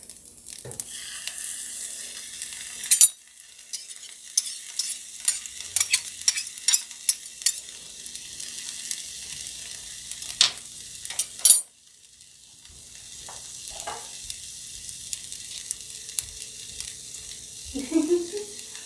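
Soy sauce and ketchup are stirred into a Dodo omelette mixture frying in a pan, giving a steady close sizzle with scattered scraping clicks and sharper utensil knocks throughout.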